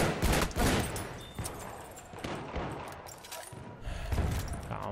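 Gunfire in Battlefield 1 comes as bursts of shots mixed with a dense fusillade, loud and close at the start and again near the end, with a busy battle din in between.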